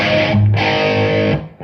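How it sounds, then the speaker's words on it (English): An electric guitar rings out with a mildly crunchy, lightly overdriven tone. Sustained chords fade near the end, close and loud with no voices. "So this is just a slight crunch."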